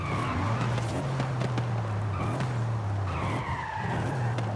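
A Mercedes in Forza Horizon 5 brakes hard with locked wheels, giving a loud sustained tire skid and squeal over a droning engine, steady for several seconds.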